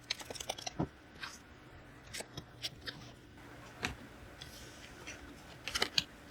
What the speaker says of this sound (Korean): 한번 또 카드 추가적으로 뽑아보고 말씀을 드려보도록 해보겠습니다.